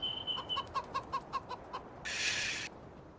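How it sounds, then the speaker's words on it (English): Chickens in Farming Simulator 19 give a run of about eight short, evenly spaced clucks, followed by a brief loud burst of broadband noise. No one talks. "You're just trying to hit the chickens."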